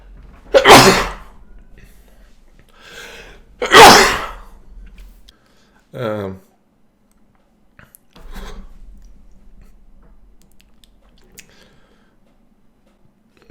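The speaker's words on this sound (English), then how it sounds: "I got a sneeze." Two loud, close sneezes a few seconds apart, followed by a short vocal sound and some quiet shuffling.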